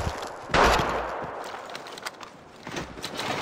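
Gunfire rings out in the mobile shooter game Apex Legends Mobile, with a sharp burst followed by scattered, fainter shots and clatter at a moderate distance.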